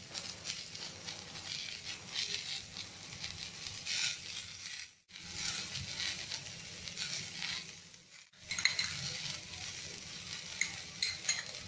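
Potatoes stir-fried in a pan with capsicum for chilli potato, giving a constant sizzle with scraping stirs that briefly stop twice before the frying picks up again.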